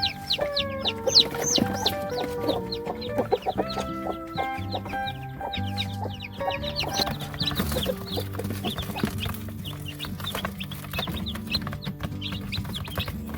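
Young Bangkok kampung chicks, under a month old, cluck and peep busily close by, a dense overlapping chorus of short chirps and clucks with no talking.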